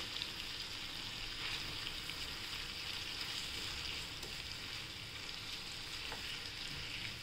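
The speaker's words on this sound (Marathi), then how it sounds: "हे आपण आलं लसणाची पेस्ट आहे ती टाकूया, ते तेलात छान असं परतून घेऊया।" Ginger garlic paste frying in hot oil in a pan, a steady, close, even sizzle that runs the whole time with no talking.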